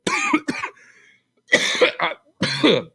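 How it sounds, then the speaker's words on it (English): Three harsh, forceful coughing bursts up close, each a rough hacking fit separated by short pauses. "you have to go coughing and hacking and lose your lunch"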